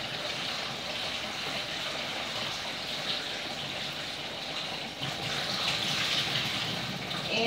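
Tap water runs steadily into a strainer while food is rinsed in a kitchen sink, a continuous close hiss that swells slightly louder toward the end, with no voices.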